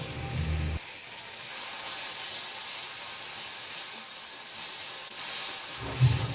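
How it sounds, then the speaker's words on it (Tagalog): Tomatoes sauté in a hot pan with salt and pepper, giving a steady, even sizzle and hiss that fills the whole stretch with no voices. "Igisa ko na rin yung kamatis."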